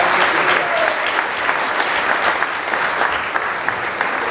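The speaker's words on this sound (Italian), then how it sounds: "Un grande applauso" A crowd at a basketball team presentation in Rieti applauds loudly and steadily, dense clapping filling the whole stretch without a break.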